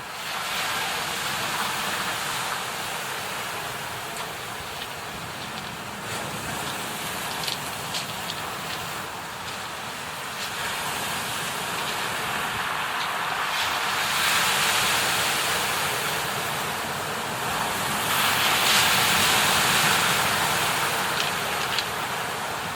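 Sea waves at the Sochi seaside resort, a continuous wash of surf swelling and receding in slow surges, fairly loud and steady throughout.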